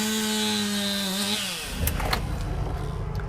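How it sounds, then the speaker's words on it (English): Chainsaws cut through storm-felled wood in a neighborhood the day after a tornado in Clarksville; a steady engine whine gives way to a rougher, grinding buzz with sharp bursts as the blade bites in. "the roar of the storm has been replaced by the buzz of chainsaws"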